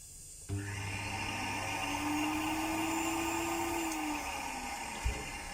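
A pedicure machine's built-in vacuum motor switches on with a thump and runs as a steady, dense whirring roar, with an added droning whine rising and falling partway through, then cuts off with a click near the end.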